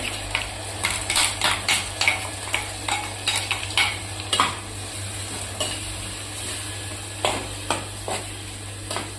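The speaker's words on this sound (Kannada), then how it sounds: "ಇದು ಹಸಿ ವಾಸನೆ ಹೋಗೋ ತನಕ ಹುರಿಬೇಕ್ರಿ" Coconut and green chili paste is stir-fried for a vegetable pulao, with a spoon scraping and clinking against the pan in repeated strokes over a soft, continuous sizzle.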